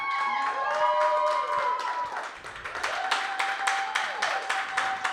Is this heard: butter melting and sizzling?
no